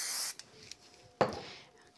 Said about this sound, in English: So I'm just going to give it a quick little spray.